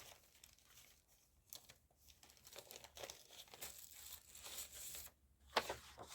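A sheet of coffee-dyed paper is handled up close, giving soft, intermittent crinkling and rustling with a slightly sharper crackle near the end, fairly quiet overall.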